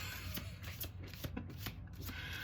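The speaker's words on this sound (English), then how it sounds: "Hey, look at the screen. You can see me shuffling." A deck of playing cards is shuffled at a table, with repeated riffling bursts and soft rubbing sounds close to the microphone.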